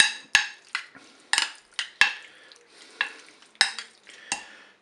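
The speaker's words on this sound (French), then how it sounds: "On mélange également." A utensil stirs curry-seasoned chicken on a plancha, giving a series of sharp, close scraping clacks in an uneven rhythm over a faint sizzle, with no talking.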